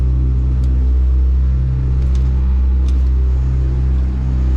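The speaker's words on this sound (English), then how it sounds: "Now I can start these main motors up now." Main outboard motors on a 2019 Stabicraft 25 Ultra Cab boat out on the water, a loud, steady low engine rumble and drone that holds constant throughout with no pauses.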